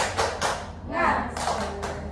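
A group of people claps a quick rhythmic tepuk semangat pattern in several bursts, close and fairly loud, with voices chanting along between the claps.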